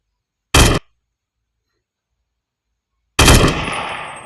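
Two loud, close bursts of M16 rifle fire from a modded video game gun, a brief volley, then a pause before a second burst that rings out with a trailing echo.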